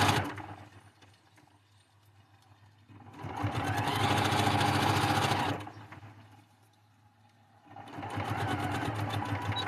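A sewing machine stitches a quilt block seam, running in two sustained bursts with a pause between, steady mechanical whir close up and no talking.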